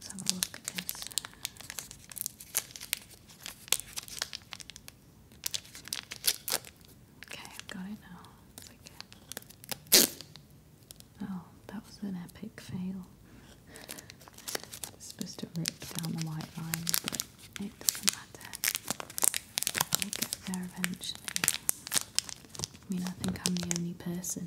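A paper-wrapped period product with a perforated wrapper is torn open close up: rapid crinkling, scattered ripping and tearing bursts, and rustles throughout, with soft whispered talk between the handling noises.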